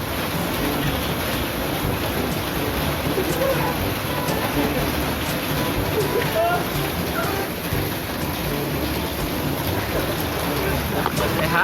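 Steady, dense rain pours down continuously in a hilly outdoor setting in Cianjur, a loud hiss filling the whole stretch with no pauses.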